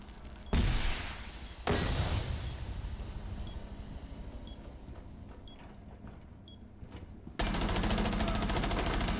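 Gunfire in the video game Rainbow Six Siege: loud bursts of shots, a sharp blast near the start, then a second heavy burst and rapid automatic fire at the end, with quieter ambience and faint clicks between.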